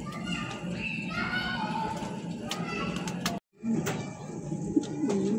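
Soft coos of two male King pigeons murmur beneath a voice speaking close by, with a brief dropout midway.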